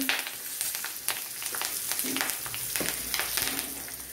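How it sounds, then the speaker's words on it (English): Mustard seeds splutter and crackle in hot oil for a South Indian sambar and arbi fry, a dense, steady sizzle dotted with sharp popping bursts throughout, close and fairly loud. "the mustard seeds have started to splutter"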